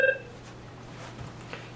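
Short burst of dialing tones from an Avaya 9620 desk phone at the very start, a quick run of beeps that fades into a low steady hum with faint room noise.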